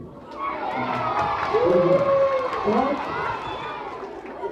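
One half of a school audience cheers for Kelly at a welcome event for Olympians, a loud swelling roar of children's shouts and screams that peaks midway and then holds.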